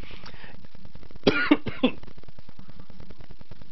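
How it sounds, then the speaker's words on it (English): Three quick coughs in a row from a live-stream host, close and fairly sharp, over a quiet background with no talking. "I got a little bit of a cough"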